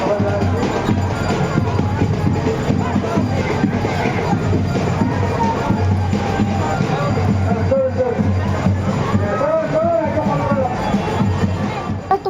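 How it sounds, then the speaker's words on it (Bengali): A large crowd mills around a Rath chariot festival as the chariot moves slowly forward, a loud, continuous babble of many voices with a low rumbling undertone that runs throughout. "এত ভিড় হয়েছে দেখতেই পাচ্ছ, খুব ভিড় হয় প্রতি বছর এই রথের সময়"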